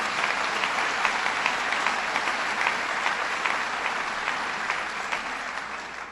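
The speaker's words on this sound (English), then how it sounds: "Let's give him a round of applause." Steady, moderately loud applause from an audience in a hall at a cancer institute accreditation event, continuous clapping that tapers slightly toward the end, with no talking over it.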